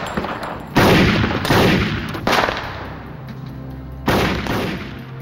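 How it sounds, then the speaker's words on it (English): Loud, close gunshots ring out in a dramatized shootout reenactment of the Miami FBI gunfight, with several heavy bursts of fire separated by brief pauses and reverberating echo. "but he continued to advance and fire"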